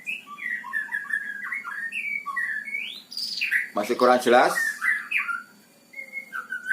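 An oriental magpie-robin (kacer) sings clear, varied whistles and chirps nearby, broken by a short harsh burst of squawking partway through, with a voice speaking briefly.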